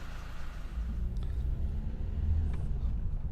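A 2015 Nissan Juke 1.5 dCi with no turbo boost and flat performance drives along a road, giving a steady low engine and road rumble from inside the cabin, with a couple of faint ticks.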